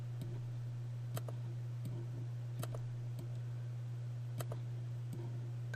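Computer mouse clicks, several sharp isolated ticks at irregular intervals over a steady low electrical hum, close but quiet.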